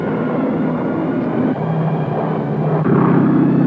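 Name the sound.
low-flying attack bomber aircraft engines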